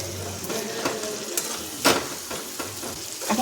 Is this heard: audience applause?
no